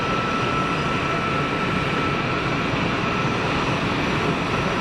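Steady broadband roar of an EgyptAir Boeing 737 taxiing at Geneva Airport, a continuous, fairly loud engine hum and rumble holding level throughout with no voices.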